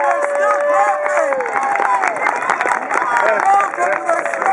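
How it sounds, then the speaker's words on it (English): A live show audience breaks into loud, sustained cheering and applause for the president, whistles and shouts rising over dense clapping throughout. "A thunderous applause for the president. Keep loud, we're still clapping."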